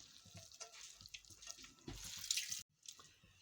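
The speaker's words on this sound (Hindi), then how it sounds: "अब हम इसको हाथ की मदद से स्क्वीज़ कर लेंगे और इसका सारा पानी जो है वो निकाल लेंगे" Water squeezed by hand from grated radish (mooli) for parathas, running and splashing wetly in a steady stream close up, with a brief drop to silence near the end.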